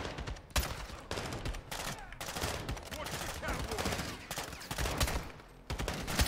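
Rapid bursts of gunfire in Call of Duty MW2, sharp repeated shots clustered in volleys with brief gaps, loud and close throughout.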